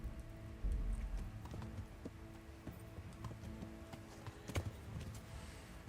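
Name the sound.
horse hooves running in Kingdom Come Deliverance video game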